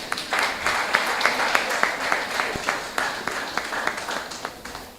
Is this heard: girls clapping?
yes